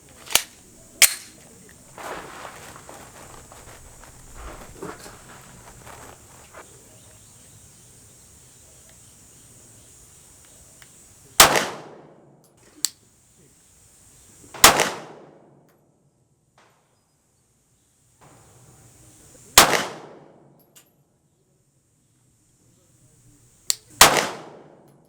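Handgun shots fired at a target while testing a Vortex Viper red dot sight for zero shift, several loud, sharp reports spaced a few seconds apart, each trailing a short echo, with quieter handling noises between and no talk.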